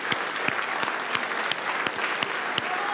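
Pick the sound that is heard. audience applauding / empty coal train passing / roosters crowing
audience applauding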